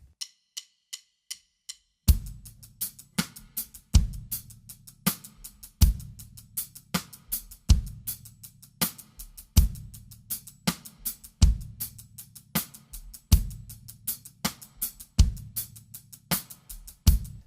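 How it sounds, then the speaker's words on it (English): A drum groove, with hi-hat, snare and bass drum, plays as a steady repeating pattern after two seconds of light hi-hat ticks, with crisp snare hits and deep kicks. No one talks. "Adding the snare and bass drum to it, the groove sounds like this."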